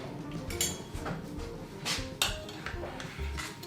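A spoon scooping batter into muffin moulds, giving a few light scraping taps and clinks of metal against the moulds, close and fairly quiet with no voices.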